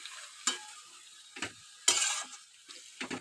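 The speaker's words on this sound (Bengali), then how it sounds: "একটু ভালো করে নেড়ে নেব।" Water spinach curry being stirred in a pan: several separate wet scraping strokes of a spoon, spaced about a second apart over a low simmer, close and moderately loud, no talking.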